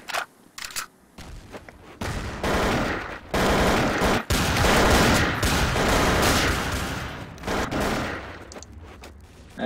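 Rapid automatic gunfire from a Counter-Strike match, loud and close, with a few sharp shots early on, then a dense, sustained burst of firing that runs nearly unbroken for most of the stretch before tapering off near the end.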